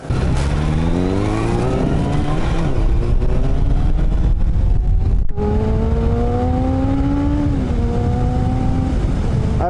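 Suzuki motorcycle engine with dirty carburetors revving up and down through several rising pulls, a loud close mid-pitched drone with brief dips between throttle blips.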